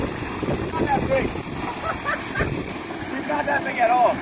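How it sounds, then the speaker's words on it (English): Gusty wind buffets outdoors while fishing by a pipe, with low rumbling and water sounds, while someone talks over it. "I also want to apologize for the wind because out of nowhere, it got super, super windy"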